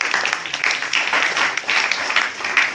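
A church congregation claps together in praise of Jesus, a steady, fairly loud burst of many hands with slight rhythmic swells and no talk over it.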